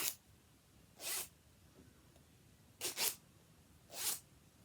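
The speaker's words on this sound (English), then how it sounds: "Now I bought some of these very nice jean zips." Metal jean zip pulled open and shut in four quick bursts, a close, crisp rasp each time with quiet pauses between, no talking.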